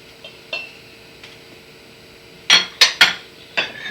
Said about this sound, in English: I'm going to take this bowl, and I'm going to dump in my onions